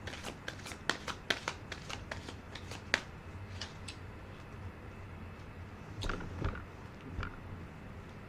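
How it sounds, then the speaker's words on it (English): Oracle cards being shuffled and drawn during a tarot reading, giving a run of crisp, rapid riffling snaps and flicks in the first few seconds, then softer card slides and taps, close up with no talking. "Let's pull up an oracle card."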